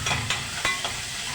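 Four cloves of minced garlic fry in a pan with a bright, steady sizzle, broken by a few short scraping stir strokes close by; no talking.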